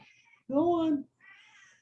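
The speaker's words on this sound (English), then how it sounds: "There's my cat." A house cat gives one clear, close meow lasting about half a second, with quieter voice sounds just before and after.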